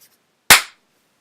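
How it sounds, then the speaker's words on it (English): A single sharp hand clap, loud and close, cracks out of near silence and decays quickly. "I'll do the dramatic clap"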